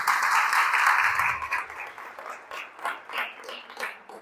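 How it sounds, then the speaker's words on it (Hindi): A crowd at a live kavi sammelan poetry recital applauds, a dense wash of clapping that is loud at first, then thins after a second and a half into sparse, uneven claps and faint noises. "जोरदार एक बार तालियां बजा दीजिए।"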